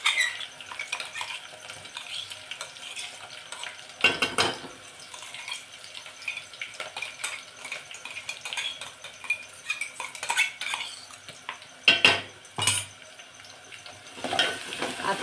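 A spoon scrapes and clinks against a pan while a ground paste of chili, ginger and garlic sizzles gently in oil with curry leaves, with intermittent stirring knocks and a low steady fry.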